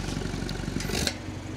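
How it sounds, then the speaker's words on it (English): A stage 2 Mini Cooper S JCW F56 idles with its Bluetooth-controlled sport exhaust open, a close, low burbling engine note with a brief rise like a light rev near the middle. "There you go, the exhaust is actually switched on now"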